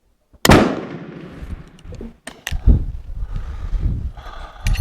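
Martini-Henry rifle loaded with large pistol primers fires at close range, a loud sharp blast ringing out followed by a couple of further bangs and clatter.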